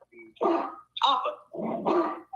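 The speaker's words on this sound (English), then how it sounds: "Sounds like you got a big dog over there." A big Great Pyrenees gives three deep, throaty barks, each long and booming with short gaps between, close and fairly loud with no talk over them.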